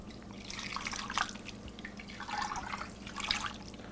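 About a cup and a half of water poured into a crock pot over a pork shoulder, an uneven splashing trickle in two bursts, close and fairly quiet, with no talking.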